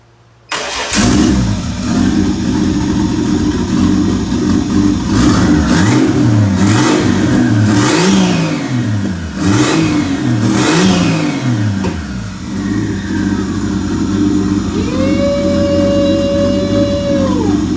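Holden VL Executive car engine cranks and catches, then revs repeatedly in rising and falling surges before dropping back to a rough idle, loud and close, with a brief whine near the end; no talking.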